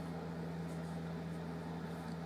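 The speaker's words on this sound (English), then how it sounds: "Sorry about the other noise in the background, it's the heating." A steady low hum with a constant tonal drone fills the background, like a heating system running nearby, with no talking.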